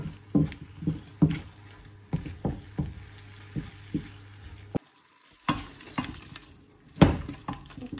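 Spoon stirring bulgur with small red pepper pieces in a hot pot, with repeated scraping strokes over a steady sizzle, close and fairly loud, with a short pause partway through.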